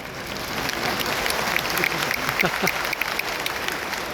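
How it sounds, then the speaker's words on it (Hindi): Sustained applause from a large crowd at a university convocation, steady and fairly loud throughout, with scattered sharper claps standing out. "जब भी आपको लगेगा कि अभी बस करो भाई, तो जोर से तालियां बजाना"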